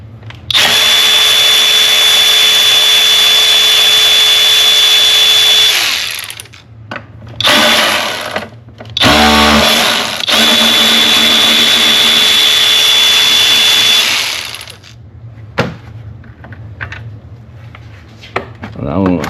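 A power tool spins loudly for several seconds at a time, removing E10 bolts from a Mercedes E350 3.5L engine, with brief stops, a short burst and a final clunk followed by quieter handling.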